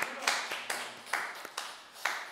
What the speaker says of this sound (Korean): 우리 다시 한번 모든 영광 주님께 박수를 올려드리겠습니다